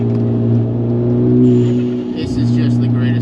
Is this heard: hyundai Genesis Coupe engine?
yes